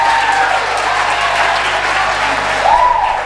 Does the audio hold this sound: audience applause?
yes